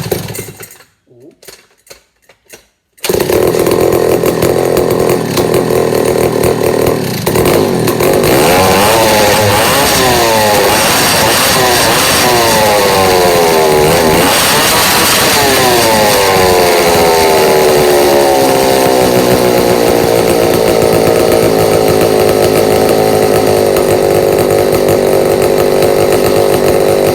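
An old McCulloch 1-53 chainsaw starting cold after a few pull-cord tugs, then running loud and close with a raspy two-stroke roar, revving up and down before settling to a steady drone.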